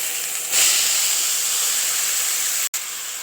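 Vegetables stir-fried in a hot pan that still holds cooked chicken, giving a steady, close, loud hiss-like sizzle that runs throughout with one brief dropout near the end.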